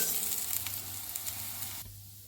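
Mustard flower pakoras sizzle and fry steadily in coconut oil in a pan, a close hiss with small crackles that cuts off abruptly near the end, leaving a quieter background.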